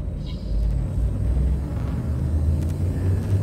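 A spaceship drive charges in a video game, the ship DSSV Pharos Brightly. A deep, loud rumbling hum builds and holds steady for a few seconds, with faint high whirs on top.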